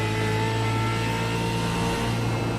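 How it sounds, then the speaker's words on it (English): A race car with a flat tyre drones steadily at a distance at Phillip Island, a continuous humming roar with no clear change in pitch. "You can literally hear the car, and there is a tyre down for that car."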